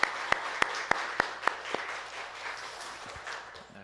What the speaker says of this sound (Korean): 우리 큰 박수로 한번 감사와 영광 돌리십시오